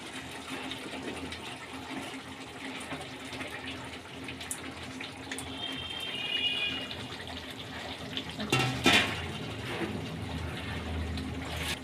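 Water poured into a bowl while making a restaurant-style soya chunk gravy, a steady running splash with a brief louder gush near the end, heard alone with no talking.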